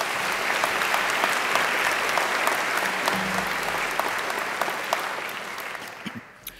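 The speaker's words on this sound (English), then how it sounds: "I think they deserve a round of applause too." A large audience applauds alumni volunteers at a university graduation ceremony: dense, sustained clapping that holds steady for several seconds and then tapers off at the end, with no voices over it.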